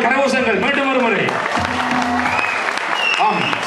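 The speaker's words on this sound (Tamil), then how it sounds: "அந்த செல்விக்கு உங்கள் கரகோஷங்கள் மீண்டும் ஒரு முறை." An audience claps for a young girl singer at a Tamil school event. The applause is loud and steady from start to finish, and a voice talks over it.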